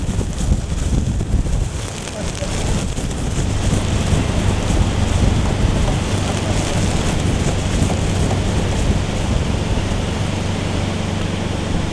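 Heavy rain from the tail end of Hurricane Ernesto, a tropical storm, pours in a dense, steady roar with wind buffeting the microphone throughout, loud and close, with no clear gaps.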